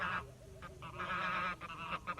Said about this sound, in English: wherever I want the geese, I just herd them around.